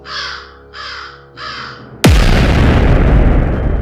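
Three harsh crow caws ring out in quick succession in an animated fantasy story, followed by a sudden loud boom that leaves a sustained roaring rumble.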